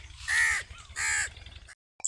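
Two loud, harsh caws from crows perched on a rooftop, each call about a third of a second long, close by, then a brief faint sound after a pause.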